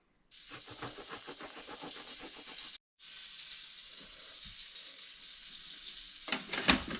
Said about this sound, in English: All we're going to do is just flash fry it in some butter and olive oil.